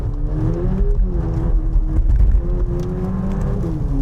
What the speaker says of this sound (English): Go down into first gear here.